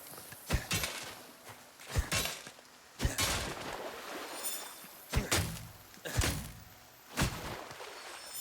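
Glass objects shatter in the Nightingale video game, a series of five or six sharp, loud breaking crashes spaced about a second apart, each ringing briefly against quiet game ambience.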